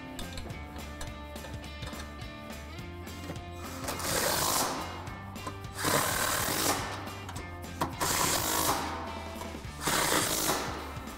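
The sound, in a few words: ratchet tightening 13mm nuts on Mustang coilover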